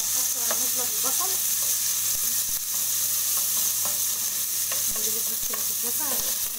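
A spoonful of garlic sautés briefly in hot oil for a Cantonese-style Chinese pasta sauce, giving a steady, close sizzle with scattered light clicks of a stirring spoon against the pan.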